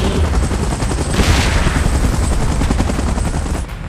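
A helicopter in the PUBG Mobile Godzilla and King Kong game mode gives off a loud, steady, close rotor roar that continues without a break throughout.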